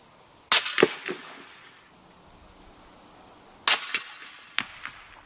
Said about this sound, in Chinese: 在近距离主要是枪声掩盖一切。